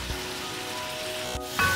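Chicken frying in yogurt in a hot pan, a steady, close sizzling hiss that runs throughout, ending with a brief metallic clink.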